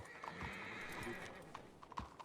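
A horse whinnies while hooves clip-clop along, quiet and a little distant, with a few scattered knocks around them.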